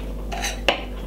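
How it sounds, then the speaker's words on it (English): A small knife cutting the stem off a cherry, giving two quick close scraping clicks against a hard surface over a low steady hum. "get my small knife and simple cut off the stem of this one"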